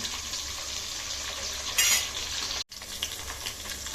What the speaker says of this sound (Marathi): आता हे आपल्याला खडे मसाले पण टाकायचे आहेत, तर ह्याला पण छान असं परतून घ्यायचंय